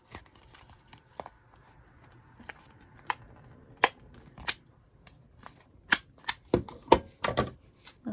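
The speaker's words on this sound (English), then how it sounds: "Then I'm just going to round my corners again." Paper craft tag for a journal being trimmed and its corners rounded, a scattering of sharp, close snips and clicks, sparse at first and then coming faster and louder near the end, with no talking.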